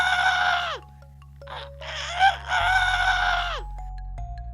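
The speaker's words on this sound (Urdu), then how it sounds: "ایک مرغا زور زور سے چیخ رہا تھا" A farm rooster crows loudly in two long, strained calls close by, set against a soft musical backing, with a short squawk between them.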